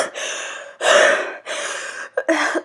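A woman's long, harsh coughing fits brought on by thick diesel exhaust from a loud truck, coming in four close, heavy bursts with short gasping breaks between them, with no talking.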